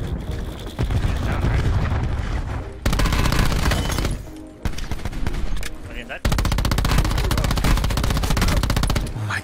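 Rapid automatic gunfire in Call of Duty: Blackout, loud sustained bursts broken by brief gaps, with a 3-man squad's voices faintly under the shooting.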